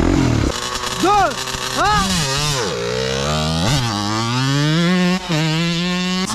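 A motorcycle engine revs and swoops up and down in pitch, then a long climbing whine as it accelerates, loud and close, with voices mixed in.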